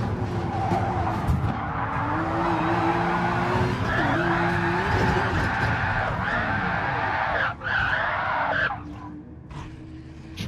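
A race car spins out in a Gran Turismo online touring series race, tires squealing in a long wavering skid over a steady engine drone, the screech rising and falling for several seconds before fading.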